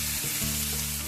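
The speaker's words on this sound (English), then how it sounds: "stir fry the seasoning paste to remove the moisture and to make more flavor" Spicy squid seasoning paste sizzles loudly in a hot pan as it is stir-fried, a steady close hiss with a couple of brief scraping stirs and no talking.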